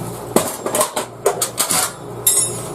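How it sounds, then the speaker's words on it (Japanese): A 2-pound claw hammer drives a 30 cm tent peg into snow-covered ground outside a home, a series of about ten sharp metallic clanks in an uneven rhythm, close and loud. "この手の30センチのペグをキャプスタのペグハンマーでは多分打ち抜けないと思うので、 もろトンカチです。"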